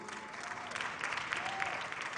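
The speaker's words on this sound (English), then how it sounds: "Please clap for me." Applause from the audience at a women's summit and expo as a guest is called to the stage, steady and fairly faint over 2 seconds, with background voices mixed in.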